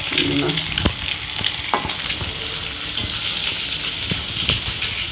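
An egg fries in a pan with a dense, continuous sizzle. Small pops and crackles recur throughout, close and fairly loud, with no talking.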